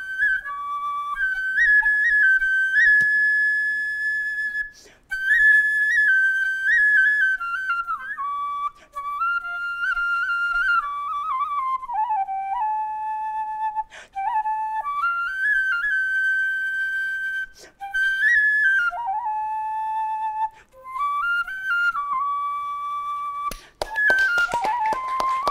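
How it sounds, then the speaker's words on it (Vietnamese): A bamboo flute plays a slow, wavering melody of sustained, bending notes with short pauses, clear and close, alone without talk, ending in a burst of noise. "Cái tiếng sáo nó ma mị quá."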